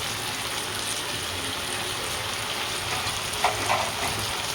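Bitter gourd tipped into a pan of nearly cooked potatoes and left uncovered to fry, giving a steady broadband sizzle throughout with a couple of brief louder splashes near the end; no one speaks.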